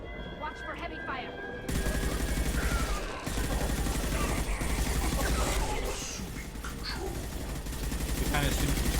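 Heavy gunfire in a Mass Effect 2 battle rattles on as dense, continuous automatic bursts, loud and close, with voices over the firing.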